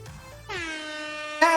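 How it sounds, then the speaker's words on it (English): A loud air horn blares with a long sustained harmonic tone, swelling louder near the end, following a brief murmur of background noise. "And begin, air horn!"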